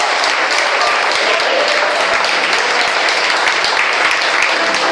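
A church congregation applauds and cheers continuously, a dense, loud wash of clapping and crowd noise that fills the room without a break.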